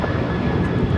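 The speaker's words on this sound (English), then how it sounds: "1069 taking off to Chicago O'Hare on a 737-800" A United Airlines Boeing 737-800 at LAX on its takeoff roll, a loud, dense, sustained engine roar with no voices.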